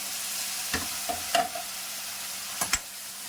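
Thinly sliced onions for a chicken curry fry in a pan, a low steady sizzle broken by a few brief stirring clanks and scrapes spread across the moment, with no talk.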